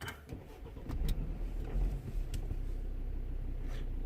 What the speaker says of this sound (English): let's start the engine and just let it idle